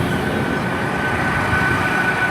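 A Class 802 train at a station gives a steady, loud rumble with a faint high whine running over it. The noise is continuous and has no clear breaks.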